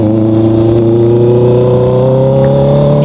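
A motorbike fitted with an Austin Racing exhaust, with the catalytic converter removed, holds a loud, steady engine drone close by, its pitch rising slightly throughout without a break.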